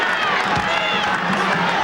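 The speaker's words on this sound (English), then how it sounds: "It's a very quiet crowd in here." Arena crowd murmur at a Kentucky versus Tennessee college basketball game in a huge building, a steady, fairly subdued hum of many voices filling the space throughout.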